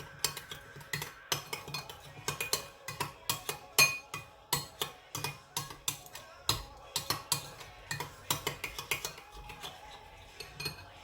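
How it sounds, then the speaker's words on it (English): A utensil repeatedly scrapes and clinks against a bowl while ranch dressing is stirred into chicken wings, a steady, fast rhythm of close, sharp taps and scrapes running throughout with no talking. "This is some ranch. Just gonna mix it in."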